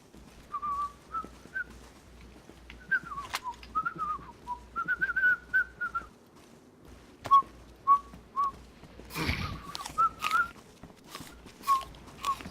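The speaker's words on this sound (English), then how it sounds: "Stop whistling." A man whistles a wavering tune in a reverberant indoor space, bursts of melody with pauses, joined near the end by clattering knocks and shuffling movement; no talking.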